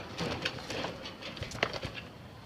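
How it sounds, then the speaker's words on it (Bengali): An army pigeon gives a few soft, low coos close by, mixed with faint rustling and light clatter from its surroundings. "এটা হলো আমাদের আর্মি কবুতর"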